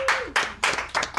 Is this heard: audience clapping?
yes